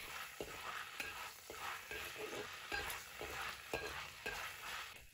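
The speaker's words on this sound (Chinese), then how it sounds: "大火煸炒出香味。" Ginger and garlic stir-fried in a wok over high heat, a steady crackling sizzle broken by regular scraping strokes of the spatula every half second or so, close and continuous with no talking.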